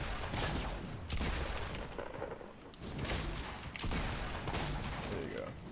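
Heavy shotgun blasts in the Fortnite video game come as several loud, dense bursts of gunfire in quick succession, with a voice faintly mixed underneath.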